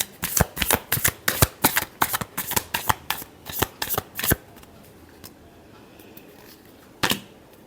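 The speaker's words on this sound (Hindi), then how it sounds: "last shuffle" Tarot cards being shuffled in quick repeated riffles and snaps, about twenty crisp bursts in a steady rhythm, close and clear, then a pause and one final snap.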